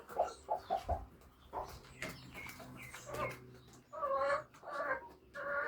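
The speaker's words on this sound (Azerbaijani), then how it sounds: "hinimizdə orada 2 ədəd toyuğumuz var. O da kürt düşür." Broody hens sitting in the nest boxes of a backyard chicken coop give soft, repeated clucks and short throaty calls, close and fairly quiet, with a few louder bursts.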